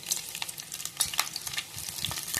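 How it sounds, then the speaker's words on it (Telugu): Peanuts and fried bitter gourd pieces crackle in a pan while being stirred, a close, steady sizzle broken by frequent scraping clicks, with no voices. "అట్నే కొన్ని పల్లీలు వేసుకొని కాసేపు వేయించుకోవాలి."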